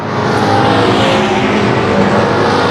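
Pro stock race cars roar around Tucson Speedway in a loud, steady engine drone that fills the whole moment.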